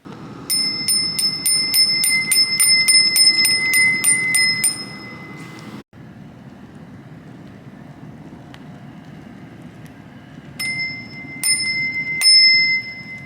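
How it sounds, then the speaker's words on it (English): A hand-painted Crane SUZU bicycle bell rings repeatedly in rapid bright dings over steady rolling and wind noise while riding, pauses, then rings again in a few shorter bursts. "what the bell sounds like"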